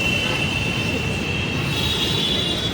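A Delhi Metro train at Sarita Vihar station, loud and close, with a steady rolling rumble and a sustained high wheel squeal running throughout.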